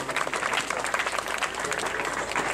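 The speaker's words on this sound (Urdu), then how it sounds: "بھرپور تالیوں میں ان کا استقبال کیا جائے" Audience applause at a school prize ceremony in Nala as the headmaster is welcomed onto the stage, a steady dense clapping from a hall crowd with no voices over it.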